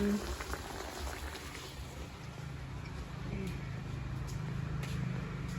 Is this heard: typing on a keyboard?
no